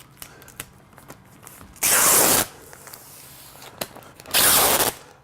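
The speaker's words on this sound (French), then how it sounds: "s'assurer que les joints, toutes les coutures sont bien scellées avec du ruban rouge" Red tape being pulled off the roll and pressed over the seams of a vapour barrier during exterior wall insulation, giving two loud ripping strips separated by quiet handling noises, close to the mic.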